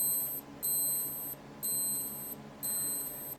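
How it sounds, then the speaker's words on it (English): A thin, high-pitched alarm from a Casio G-Shock G-7800 digital watch pulses in four evenly spaced bursts about a second apart, each tone fading slightly before the next. "you can also test the alarm by pressing and holding the bottom right button"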